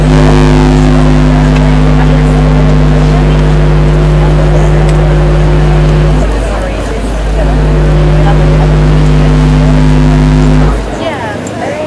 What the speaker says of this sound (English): It's picking up the vibrations of the boat.